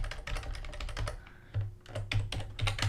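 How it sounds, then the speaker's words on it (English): Rapid, uneven keystrokes on a computer keyboard while someone writes game script code, close and fairly clear, with brief pauses between bursts of typing. "So you're gonna type"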